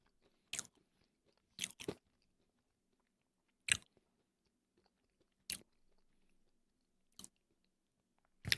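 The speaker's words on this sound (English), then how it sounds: "Just had a coffee in bean form." Crisp crunches from biting and chewing a coffee bean, about seven sharp bursts spaced irregularly in near silence, close and quiet.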